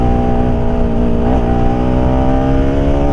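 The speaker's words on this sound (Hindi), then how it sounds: "आवाज़ तुम्हें शायद सुनाई दे रही होगी थ्रॉटल की, यानी कि इंजन की।" A seven-year-old Bajaj Pulsar RS 200 motorcycle engine runs hard under throttle during a mileage test. It gives a loud, close, continuous drone with one brief hitch in its pitch.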